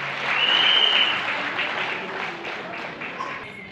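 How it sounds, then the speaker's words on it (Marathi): An audience at a folk dance programme breaks into applause, a sustained wash of clapping that swells early and then slowly tapers off. "त्यांच्यासाठी जोरदार टाळ्या आपण सगळे वाजवायचे"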